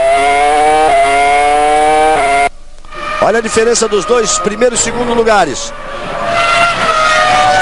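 Formula 1 race car on track, with a high-pitched engine wail that drops away, then repeated roaring passes with rising and falling revs from another car, loud under a commentator talking.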